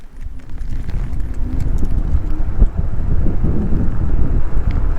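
Himiway Zebra e-bike pulls away at full throttle from standstill on level ground, with rising low whir and rushing wind buffeting the microphone, growing louder over a few seconds.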